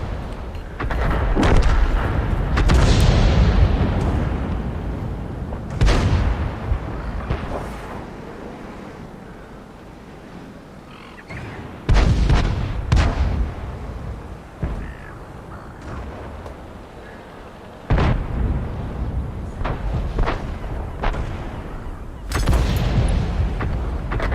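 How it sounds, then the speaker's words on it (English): Enemy artillery shells landing in the tank game World of Tanks, arriving as several heavy booming impacts spread across the stretch with rumbling decay between them, some nearer and louder, with occasional voices. "Enemy artillery."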